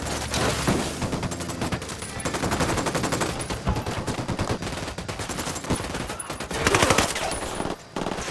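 Rapid bursts of automatic gunfire and overlapping shots from a Ghost Recon Wildlands firefight against cartel gunmen, dense and loud throughout, with a short lull near the end.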